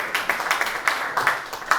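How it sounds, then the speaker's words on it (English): A small audience at a book launch gives scattered, uneven claps, a thin patter of separate hand slaps rather than full applause. "Ooh, not everybody clapped."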